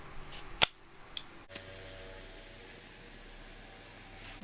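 Three sharp scissor snips cutting zipper tape for a tote bag, spaced apart and close, followed by quiet room hiss with a faint low hum.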